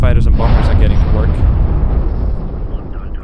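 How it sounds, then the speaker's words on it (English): Heavy, booming explosions roll through a Star Wars: Warlords space battle near a Star Dreadnought, loud and dense at the start before rumbling off, with a voice speaking over them. "Whoa, some more explosions going on over here."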